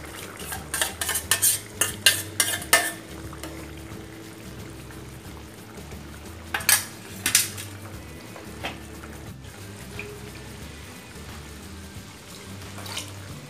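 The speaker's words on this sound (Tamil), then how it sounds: "நல்லா கலந்து விட்டுக்கலாம்" A metal spoon stirs cooked moong dal into sambar in a pot, giving repeated close scraping clinks and clatters in bursts, with a soft wet slosh of thick liquid between them.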